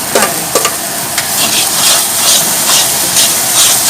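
Chicken ghee roast masala frying in hot ghee, a loud close sizzle with hissing steam and the scrape of stirring, with a few knocks near the start and no talking.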